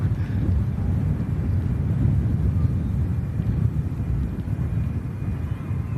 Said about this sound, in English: TAP Air Portugal Express heading back to Lisbon. The Embraer E190.